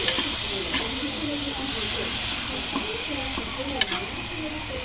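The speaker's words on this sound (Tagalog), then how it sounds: "Haluin natin mga kahabi" An eggplant dish in coconut milk is stirred in a pan over a constant hiss and sizzle, with occasional spoon knocks against the pan and faint background voices.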